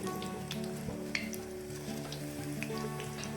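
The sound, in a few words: gram flour dumplings frying in oil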